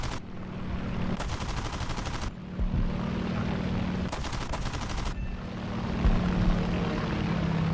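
Video game F4U-4B fighter plane with a droning propeller engine throughout, broken by two sustained bursts of rapid machine-gun fire, each lasting about a second, with no talking.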